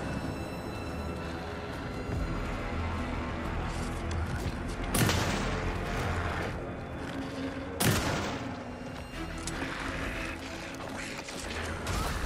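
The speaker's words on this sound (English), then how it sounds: "Bullets." Two loud, sharp gunshots ring out several seconds apart in Alan Wake 2, each cracking over a dense, rumbling game soundscape.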